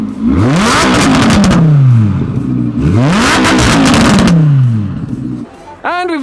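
An Audi R8 fitted with a Quicksilver exhaust revs hard twice, each loud, close blip climbing and falling away with crackle, followed by a shorter rev as another car pulls in at a supercar road-trip gathering.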